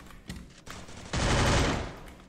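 Gunfire in a 4v4 online shooter match: a couple of sharp single shots, then a dense, rapid burst of automatic fire. It is moderately loud and has no voices over it.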